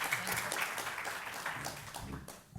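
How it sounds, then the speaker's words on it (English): An audience at a panel discussion applauds the panelists with soft, continuous clapping, fairly distant and low in level, holding steady before fading near the end. "let me ask for a round of applause and thank you to all of our panelists"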